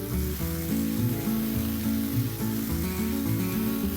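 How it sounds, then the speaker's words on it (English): Pre-blanched carrots, beans and tomatoes sizzle on a hot grill plate at an outdoor camping cookout, a steady, close, loud crackling hiss that continues without a break and with no voices. "I'm also going to start placing in some vegetables that are pre-blanched"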